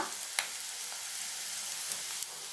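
Onions and spices softening in hot oil for a snake gourd fry, a steady close sizzle with a couple of brief utensil taps, no voices.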